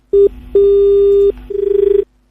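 A telephone ringing loudly and close, two long steady tones followed by a rapid warbling ring, with no talk.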